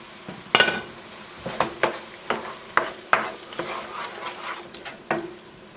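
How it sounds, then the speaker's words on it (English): A spoon stirs ground beef and refried beans in a pan, giving irregular scraping and clacking strokes with a soft sizzle underneath, close and moderately quiet with no talking. "Alright, I'm stirring it up."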